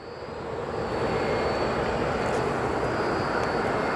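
A United Airlines Boeing 737 MAX 9 arrives at O'Hare airport as a broad, steady jet engine roar that swells in over the first second and then holds loud, heard alone.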